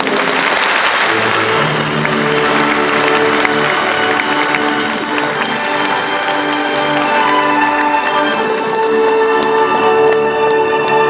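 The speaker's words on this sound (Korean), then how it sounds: "큰 박수 부탁드리겠습니다." Steady, dense applause from a large audience at the Busan International Film Festival opening ceremony, loud and continuous throughout with music faintly beneath.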